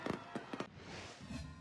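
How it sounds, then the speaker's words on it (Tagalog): A fireworks display at a holiday lights event: several sharp bangs pop in quick succession, then a rising crackling hiss and rumble follows as the show continues. "Inabangan din pati ang ingrandeng fireworks display."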